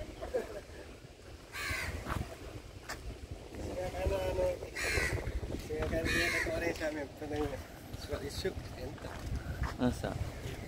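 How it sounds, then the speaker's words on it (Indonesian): A flock of crows caws overhead outdoors, with repeated harsh calls in irregular bursts over wind and rumbling background noise, recorded on a Samsung A54 5G phone; a person talks now and then. "Burung gagaknya banyak di atas nih."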